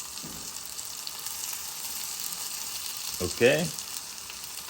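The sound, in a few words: greens stir-frying in onion mixture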